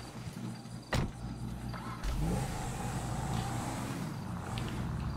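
A Jeep Grand Cherokee driving off in the video game GTA: a sharp thump, then the engine revs up and settles into a steady, moderately loud drone as the vehicle pulls away.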